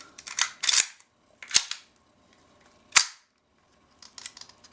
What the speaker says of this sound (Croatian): znači mora biti repetiran.